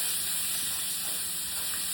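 Butter and minced garlic sizzling in a pan for Asiago cheese tortellini, a constant, close frying hiss with no talk.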